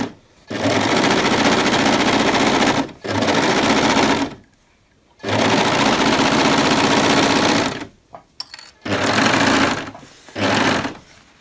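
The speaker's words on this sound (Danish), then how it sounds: "gøre her på min overlocker ved at lave en tretrådet overlocksøm" Overlocker stitching a three-thread overlock seam at narrow cutting width on bag lining fabric, close rapid whirring in several bursts separated by short pauses.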